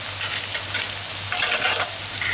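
Dendeng beef fries loudly in freshly topped-up oil, a dense close sizzle with bursts of crackling and stirring over a low steady hum.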